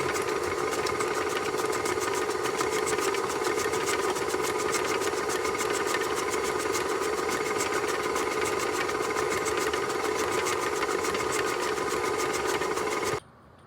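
An electric mixer runs steadily on low speed, blending dry ingredients into mint and chocolate chip cookie dough, its even motor whir and fast rhythmic ticking holding constant and close before cutting off abruptly at the end.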